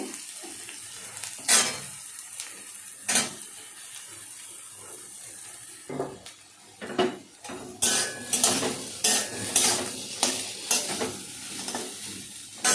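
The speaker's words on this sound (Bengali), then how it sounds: "তেলটা আমার গরম হয়ে গেছে, এর মধ্যে সয়াবিনটা আমি ছেড়ে দিচ্ছি" Salted soya chunks go into hot oil for a vegetarian soybean korma. Sparse utensil clinks come first, then a busier stretch of sizzling, stirring and scraping against the pan, close and moderately loud.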